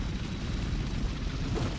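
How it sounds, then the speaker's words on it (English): Rumbling blast and boom from an explosion in an apocalypse video game, a sustained low roar lasting the whole moment at steady loudness with no talk over it. "explosions do tend to be like that"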